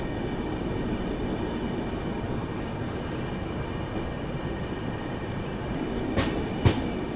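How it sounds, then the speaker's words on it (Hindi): Maharashtra Sampark Kranti Express passing slowly through Bayana Junction, a steady low rumble with faint rhythmic rail clatter heard from on board, with two sharp clanks near the end. "बट काफ़ी धीमी रफ्तार में हम लोग यहाँ पर जो है बयाना जंक्शन स्किप कर रहे हैं"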